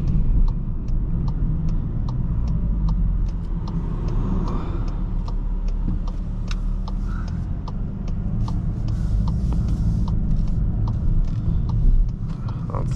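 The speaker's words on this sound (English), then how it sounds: "Hopefully we have some space to try out the launch control feature here" A 2023 VW Jetta GLI pulling away on a road, steady engine rumble and road noise with faint ticking clicks from inside the cabin.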